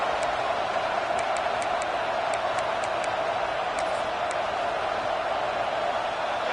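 Steady crowd noise fills a college football stadium at a Michigan State versus Minnesota game, a broad continuous murmur and roar with faint sharp whistles or shouts poking through at intervals.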